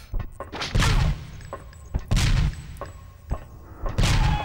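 Several loud gunshots ring out in irregular bursts in the PS1 game Alien Resurrection, each with a booming low thud and a short echoing tail, with game-style background noise in between.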